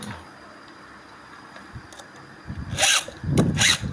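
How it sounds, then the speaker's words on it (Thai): A large round file scrapes along a chainsaw chain's teeth in a few short, rasping strokes, faint at first and then louder bursts near the end. "ลองเอาตะไบนี่ เราลองตะไบเบอร์ใหญ่สุดใส่ดูครับ"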